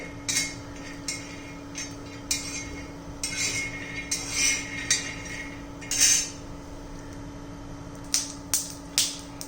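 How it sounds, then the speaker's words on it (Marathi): Peanuts roasting in a pan for a garlic-green peanut chutney, with scattered clinks and scraping taps of a utensil against the metal over a steady low hum, coming in irregular bursts. "आपल्याला शेंगदाणे भाजून घ्यायचे आहेत"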